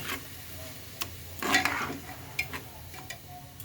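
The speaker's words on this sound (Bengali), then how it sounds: "তিনশো গ্রামের মতো সয়াবিন তেল একটু ঘি দিয়ে ভেজে নিচ্ছি" Rice frying in soybean oil with a little ghee for pulao, a soft sizzle under intermittent stirring clicks and scrapes of a spoon against the pot, close and moderate in level.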